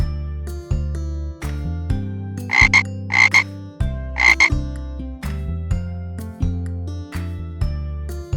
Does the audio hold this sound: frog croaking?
yes